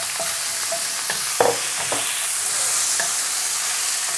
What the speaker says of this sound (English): I'm going to put my tomatoes in.